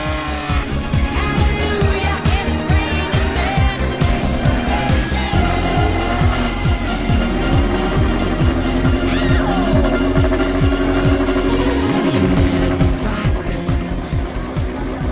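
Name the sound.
Renault Spider and Alpine berlinette opening cars departing, hillclimb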